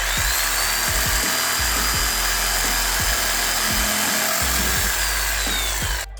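A power tool cuts a Toyota MR2 Spyder front lip along a marked line, a steady high whine with a regular low pulsing rhythm, loud and close, running for several seconds before stopping abruptly.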